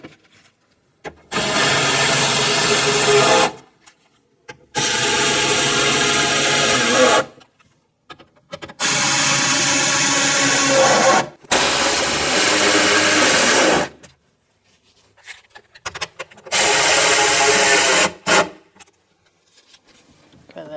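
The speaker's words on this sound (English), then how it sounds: "Now we're going to start tightening these down." Power tool driving bolts into the metal window regulator bracket of a Ford Expedition, in four loud, steady whirring bursts of about two seconds each, separated by silent pauses.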